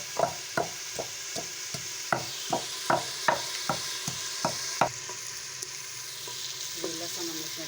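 Crushed garlic fries in a thick dal gravy over a steady sizzle, while a spoon scrapes and stirs the pan in a regular rhythm of sharp clacks, close and fairly loud, with no voices.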